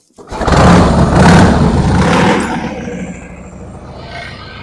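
A 1959 Harley-Davidson Panhead motorcycle engine fires up after being flooded, catching with a loud rumbling burst, revving briefly, then settling into a steadier, quieter running idle close by.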